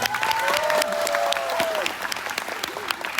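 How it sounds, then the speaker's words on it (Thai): Applause from a Thai audience fills the room, steady dense clapping with a whistle-like tone sliding over it in the first half, continuing evenly to the end. "ขอเสียงปรบมือให้กับทุกทุกท่านด้วยนะครับ"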